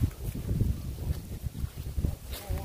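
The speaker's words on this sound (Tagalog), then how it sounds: "Lakas ng hangin oh." Strong wind buffets the microphone in rough low gusts through the whole stretch, close and fairly faint, with no talk over it.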